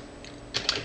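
A few quick, light keystrokes on a computer keyboard while a router address is typed, brief clicks bunched near the end of a quiet moment.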